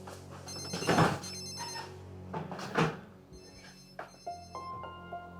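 A telephone rings in a French-dubbed TV drama scene, giving several repeated electronic ring bursts at moderate loudness with faint room noise between them.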